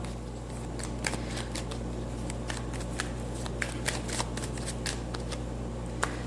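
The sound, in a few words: shuffling tarot cards to draw an advice card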